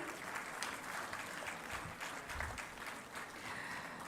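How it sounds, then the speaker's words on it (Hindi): Audience applause at an investment promotion launch event in Lucknow, a dense, even wash of clapping sustained throughout, moderately distant and continuous with no talk over it. "एक बार जोरदार ताली"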